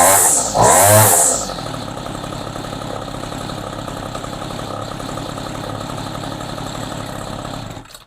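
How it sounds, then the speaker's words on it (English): Homelite string trimmer engine fitted with an NGK spark plug, a loud close two-stroke buzz that revs sharply at first, then settles into a steady, rattly idle for several seconds before stopping. "Yes, the NGK will run this engine."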